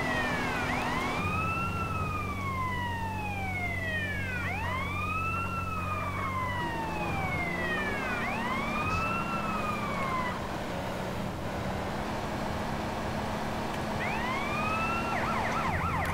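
Wailing police siren from the video game GTA San Andreas, repeated rising-and-falling sweeps running loud and continuous for about ten seconds over a steady engine drone, then briefly returning near the end.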